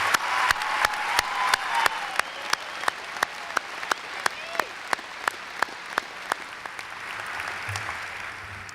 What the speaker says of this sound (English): Audience, please join me in a round of applause for this impressive group.